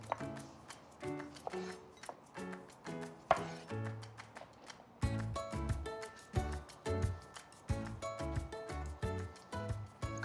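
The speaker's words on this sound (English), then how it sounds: "And I'm gonna get started prepping the tomatoes. And I'm just gonna cut these in half lengthwise." Repeated knife strokes cutting flavorful tomatoes in half lengthwise on a board, close and crisp, with irregular chopping taps and thuds that grow busier and more rhythmic in the second half, no talking.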